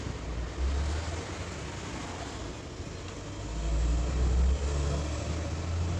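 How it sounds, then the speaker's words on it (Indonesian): Cars pass by outside during an electronics workshop session, their low rumbles swelling and fading in two clear waves over a steady, quiet background hum. "Maaf agak sedikit berisik ya, ini ada banyak mobil lewat."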